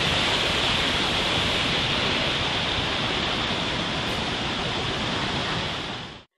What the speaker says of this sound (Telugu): వాగులు ఉధృతంగా ప్రవహిస్తున్నాయి.